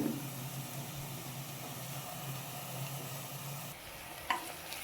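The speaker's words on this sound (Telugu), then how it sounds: "ఇవి లైట్ బ్రౌనిష్ కలర్లోకి వచ్చేంత వరకు వేపుకోవాలి" Ingredients for aloo kurma fry in a pan until light brown, giving a soft, steady sizzle throughout, faint and continuous, with a brief clink of a utensil near the end.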